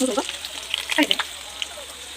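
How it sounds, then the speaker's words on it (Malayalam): Mustard seeds frying in a pan of hot oil while papaya erissery is cooked, soft sizzling with a few sharp crackling pops in short bursts, close and fairly quiet. "എന്നിട്ട് കടുക് വറുത്തിടാം"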